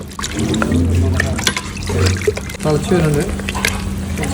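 Water is poured into a pressure cooker holding skin-on chicken pieces, a close trickling and gurgling liquid sound heard under steady conversation.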